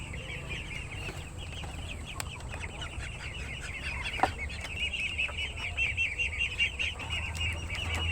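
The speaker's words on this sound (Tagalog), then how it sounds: "may mga manok dito guys" Chickens clucking on an organic itik duck farm near a nipa hut, a continuous run of close, rhythmic clucks that grow busier and louder toward the end.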